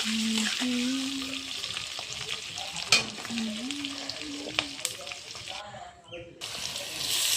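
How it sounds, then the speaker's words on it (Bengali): Potatoes fry in a pan for an egg curry with a constant crackling sizzle and occasional stirring clinks. A voice talks softly over the frying at times. "আলুটা ভাজা হচ্ছে একটু সময় লাগবে ভাজা হতে"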